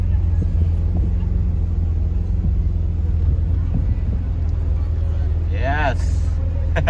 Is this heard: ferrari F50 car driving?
yes